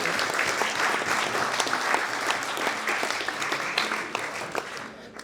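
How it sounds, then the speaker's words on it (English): Warm, fairly soft applause from a banquet audience at a clan chief recognition ceremony after a cultural display, steady with a slight swell midway and tapering near the end. "Huge round of applause."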